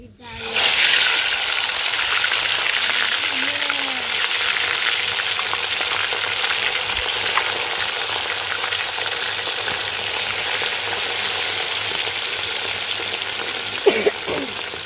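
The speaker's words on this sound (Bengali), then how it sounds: "তেল গরম হয়ে গেছে, হলুদ লবণ মাখানো মাছ দিয়ে দেব।" Small hilsa fish coated in turmeric and salt frying in hot oil, a loud, steady close sizzle and crackle that holds for the whole stretch, with a couple of sharp clinks near the end.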